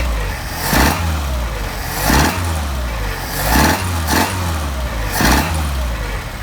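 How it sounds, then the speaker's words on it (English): A Mercedes 190SL engine fitted with Solex carburetors revs up four times in steady succession, each loud rising burst falling back to a rough idle between blips. "Now we're going to rev it up and see how it responds."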